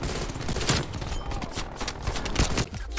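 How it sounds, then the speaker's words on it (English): A sentry gun in Call of Duty: Black Ops Cold War fires rapid, loud bursts of automatic gunfire in quick succession with short gaps, alone and without talk. "Oh, another sentry gun."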